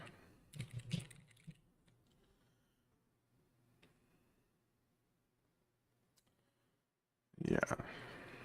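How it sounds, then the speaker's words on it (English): Typing on a ZSA Voyager low-profile keyboard: a quick burst of soft clicking keystrokes, then scattered isolated taps over quiet room tone, with a voice starting to speak near the end. "But this is my new keyboard, the ZSA Voyager. It's a great keyboard, low profile."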